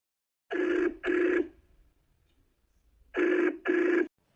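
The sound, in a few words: telephone ringing during a call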